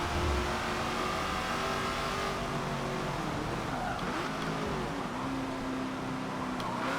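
Vintage sport GT race cars in the racing game Forza Motorsport 7 in changing weather, a sustained engine drone that rises and falls with shifting revs and nearby cars, loud and continuous throughout.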